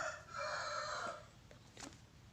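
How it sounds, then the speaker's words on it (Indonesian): A rooster crows close by with a long, loud cock-a-doodle-doo, followed by a few fainter clucks, with no talking. "Maaf, ada suara ayam."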